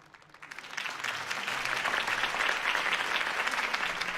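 Crowd applause follows a campaign speech in the video game Batman: The Telltale Series, swelling quickly from scattered claps into sustained, dense clapping.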